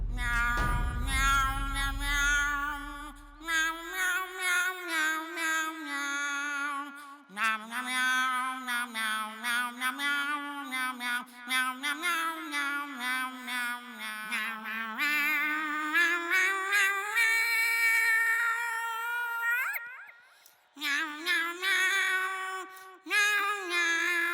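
A high, sustained wailing voice holds long drawn-out notes almost continuously, close and loud, with a deep rumble at the very start.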